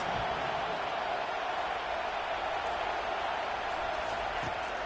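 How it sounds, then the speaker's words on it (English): Roaring stadium crowd at a USC versus Oregon college football game, a dense, steady wall of cheering that holds loud and continuous throughout, with no single voice standing out. "Listen to this crowd just shaking the girders of this place trying to help their defense."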